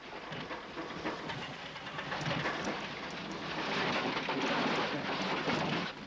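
A train rolls past in a dubbed comedy set on a French riviera trip, a steady broad rumble and clatter with no speech that swells louder toward the end.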